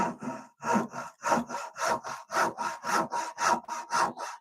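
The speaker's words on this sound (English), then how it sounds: "I'm going to keep the saw level" A hand saw cuts wood for an angle bracket in steady, even strokes, about a dozen rasping pushes and pulls in a regular rhythm, close and clear with no talking.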